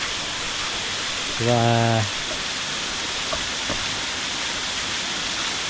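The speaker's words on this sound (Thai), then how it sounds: "นี่ในชุดบางนี้เพิ่นก็ได้เฮ็ดเป็นน้ำตกตาแบบจำลอง" Water pours steadily through a model waterfall at a forest temple in Vientiane, Laos, making a constant, even hiss of falling water, with a short burst of speech early on.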